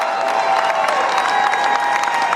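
An audience at a Trump speech applauds and cheers, a dense, steady wash of clapping and crowd noise that stays loud and continuous throughout.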